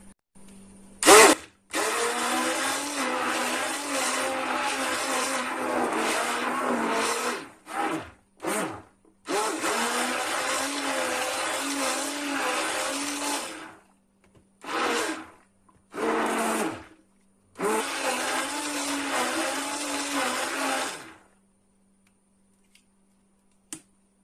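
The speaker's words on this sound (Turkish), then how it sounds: "Blender'la üçüncü kez karıştırdım arkadaşlar." A blender whirs through black mulberry ice cream in bursts, several long loud runs broken by short pauses and brief clicks, close and steady with no talking.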